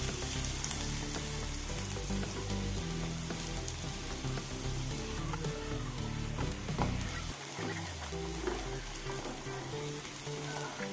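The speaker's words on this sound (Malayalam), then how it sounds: "നമുക്ക് രണ്ട് വലിയ സവോള അരിഞ്ഞതാണ് ചെറുതായിട്ട് നമുക്ക് ചേർത്ത് കൊടുക്കുക" Chopped onions for fried rice fry in a pan with a dense, continuous sizzle. It sounds close and fairly loud throughout, with faint tonal sounds underneath.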